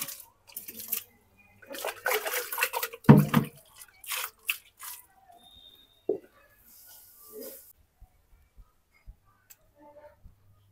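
Hydroponic seedlings being watered: a few short splashy pours followed by scattered small drips and ticks. The sound is quiet and close, with long gaps of silence between the drips.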